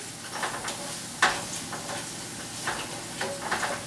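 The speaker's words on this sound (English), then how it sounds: "Now we're going to let the portobellos get all the juice from the onions and the garlic and cook down." Portobello mushrooms cook down with onions and garlic in a pan, giving a steady close sizzle with occasional stirring scrapes and no talk.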